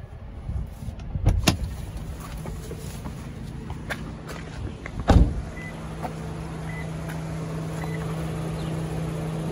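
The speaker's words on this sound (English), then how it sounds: "Let's go ahead and hop out so you can hear it run." A 2020 Toyota Sienna XLE 8-passenger van idles with a steady low hum, with two sharp door thuds near the start and midway, and no talking.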